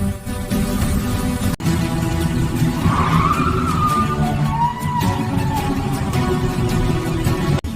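A cartoon motorbike races and skids, with a steady engine roar and a rising squealing tire skid in the middle, loud and continuous without talk.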